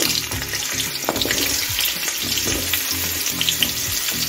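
Vegetables such as pumpkin, potato, beans, radish and eggplant dropped into hot oil with spices, a loud continuous crackling sizzle with bursts of spattering and occasional stirring clatter.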